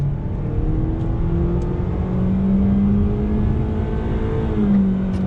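A 2020 Honda Civic LX coupe rolls on light throttle at about 19 mph, its engine giving a steady, smooth hum with a slowly rising, faintly whirring drone heard close from inside the car.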